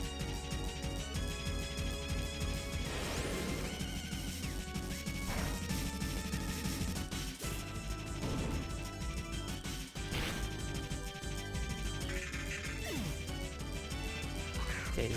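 Shadow Force attack in the Pokémon Vintage White rom hack, heard as crashing, whooshing battle effects that burst several times over continuous looping battle music.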